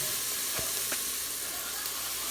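Pre-cut Hickory Farm sausage pieces sizzle loudly in a hot pan with seasoning, a dense, steady hiss carrying a few brief pops and stirring scrapes.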